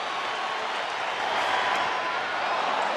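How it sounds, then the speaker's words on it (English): Big crowd at a playoff baseball game, the Yankees at Atlanta, rising to its feet with a steady, dense roar of cheering and noise that swells slightly midway through. "Big crowd up on its feet."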